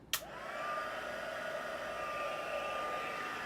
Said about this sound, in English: I'm going to come in with that heat tool again